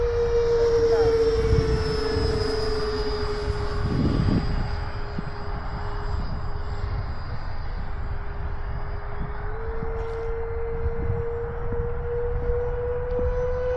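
An F-4 Phantom II jet flies steadily overhead in a touch-and-go pattern. Its engines hold a continuous drone with a high whine throughout, and there is no speech.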